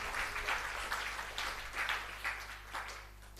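A church congregation clapping during a fasting prayer service, fairly faint rhythmic applause repeating in steady bursts.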